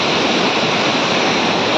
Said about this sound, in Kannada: ನೀವು ನೋಡ್ತೀರಿ, ಈ ನೋಡಿ ಈಗ ಫ್ಲೋ ಆಗ್ತದ ನೀರು